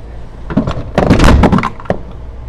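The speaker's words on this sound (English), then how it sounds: "The door closed." A door swings shut inside a house, a cluster of wooden knocks and thuds with a rattle, fairly close and loud, with no talking.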